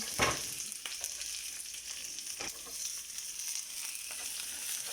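Chopped white onion sizzles in hot oil in a pan, a continuous bright frying hiss broken by a few sharp crackles and pops near the start and midway.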